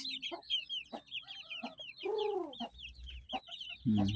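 Broiler chickens about 45 days old cluck and chatter repeatedly, a dense flock of close, busy calls with a few louder squawks standing out from the group.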